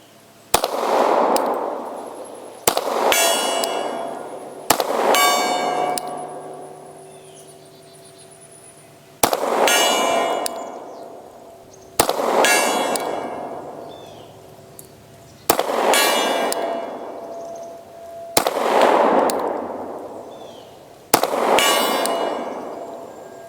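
Shots from a SIG 229 pistol ring a steel target at a range, each sharp crack followed by a long metallic ring that fades slowly. About eight spaced shots come loud and close, with no talk.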